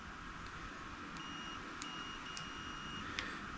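Short, faint electronic beeps from a multimeter continuity test on a 1999 Honda XR250R kill switch sound a few times at uneven intervals over a quiet steady hiss.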